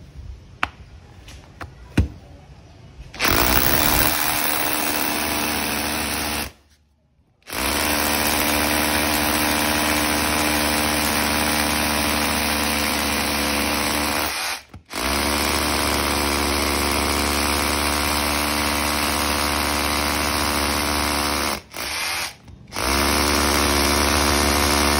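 A Makita 18V cordless concrete drill runs loud and close in long sustained whirring stretches, cut by a few brief stops and restarts, with no talking.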